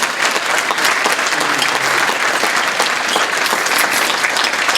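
Audience applause at a grand event, a loud, sustained burst of many hands clapping close by, steady for several seconds with no talking.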